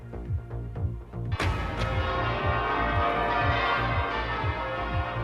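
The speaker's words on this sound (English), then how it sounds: "church bells have rung out across the UK" Church bells across the UK ringing in a steady pealing rhythm, strokes overlapping and resonating, loud and continuous.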